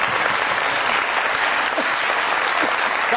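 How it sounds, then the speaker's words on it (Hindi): An audience claps for two guests on a studio talk program, a full, steady burst of many hands at an even level throughout with no voices over it. "बहुत सारी तालियां मेरे दोनों मेहमानों के लिए।"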